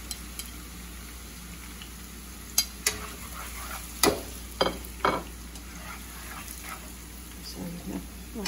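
Chili and salad stir-frying in a hot pan while making sweet and sour son-in-law eggs, a steady sizzle with occasional sharp clatters of a utensil against the pan.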